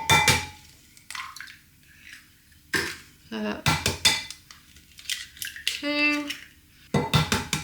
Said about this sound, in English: start off with cracking your eggs into your jug